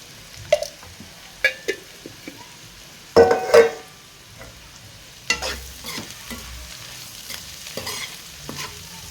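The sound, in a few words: ivy gourd (dondakaya) frying in a pan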